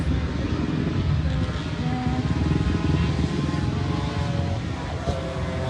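A racing scooter in a Super Scooters race at Pembrey circuit drones past at moderate distance, its engine note holding steady and then fading slightly, with no voices over it.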